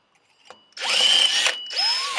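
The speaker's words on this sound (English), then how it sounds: "I didn't drill nothing that hard in a long time." A power drill bores out a broken-off bolt in two close, loud whirring bursts, the motor winding up and straining against the hard metal, with a brief tool click beforehand.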